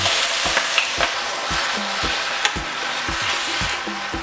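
Chicken, onions, peppers and tomatoes frying in a pan for poulet basquaise: a loud steady sizzle punctuated by regular knocks and scrapes of a utensil stirring, close and without speech.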